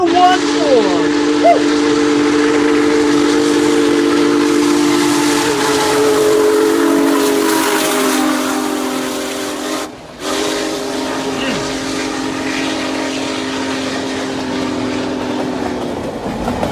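Union Pacific 4014, a big steam locomotive, sounds a long, loud whistle and then rolls past with a heavy rumble and hiss, the blast cutting off briefly partway through before the train noise carries on.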